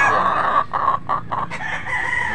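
Golden Boy sweater gamefowl rooster crowing up close, a single long, loud, harsh crow with a wavering tone over a steady background hum.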